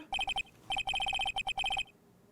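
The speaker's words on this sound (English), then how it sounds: "All of a sudden, the phone began to ring." Lost cell phone ringing, fast repeating electronic trill bursts in three quick groups, clear and close with no one speaking.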